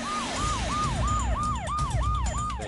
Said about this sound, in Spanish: Se lo llevaron al hospital en una ambulancia.